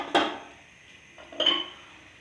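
A metal lid is set onto a pot of chana pulao, with a sharp clank followed by a second scraping clatter as it settles, close up, in a quiet kitchen without talk.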